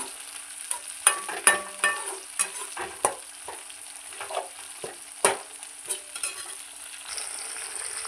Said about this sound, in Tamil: அது கூடவே அரைக்கி வச்ச தங்காயம் தக்காளி ரெண்டு நல்லா போட்டு வதக்கிட்டுக்குவோம்